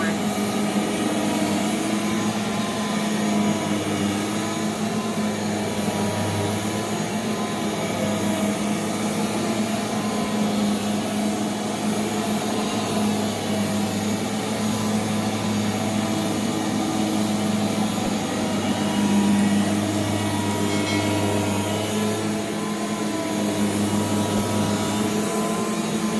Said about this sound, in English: That is one soothing vacuum to use.